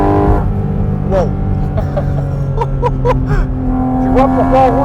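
A Porsche's engine roars loudly and close while being driven on a wet track, a steady droning tone with gear changes, as a person talks over it in short bursts.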